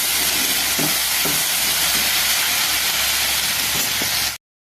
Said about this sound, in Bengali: এই দেখো এই যে আলু ভাজা হচ্ছে।